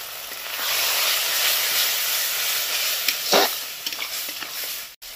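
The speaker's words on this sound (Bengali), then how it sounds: "একটু জল দিয়ে কষাবো" Chilli powder and spices sizzle and hiss steadily in hot oil with a splash of water in a pan, with a stirring scrape partway through and a sharp clack near the end.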